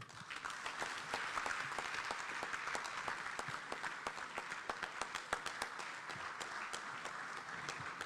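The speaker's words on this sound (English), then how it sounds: "A round of applause for the Chief of Staff of the Republic of Ghana, the Honorable Dr. Julius Debra, for the very bold statement" Conference audience clapping after a speech by Ghana's Chief of Staff at the 4th Africa Conference, dense sustained applause from a large hall with individual sharp claps standing out, fairly distant and steady throughout.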